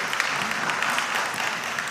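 Brief applause from an audience at a school quiz competition for the contestants, a dense continuous patter of clapping heard on its own.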